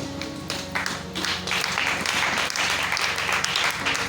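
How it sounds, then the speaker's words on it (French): Church congregation applauding in acclamation, a lively burst of many hands clapping with sharp irregular taps, close and fairly loud, with no talk over it. "Acclamons pour la parole de Dieu."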